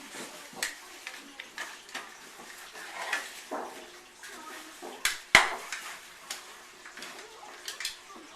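A tray being washed and handled in a kitchen, with light clinks and scrapes of metal dishware and soft splashing water in irregular bursts, plus one sharp clatter near the middle, fairly quiet overall.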